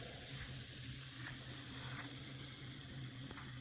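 Fertilizer being stirred into a container of water to dissolve it before feeding pepper plants, giving a steady, close swishing and watery churn that continues without pause and with no talk.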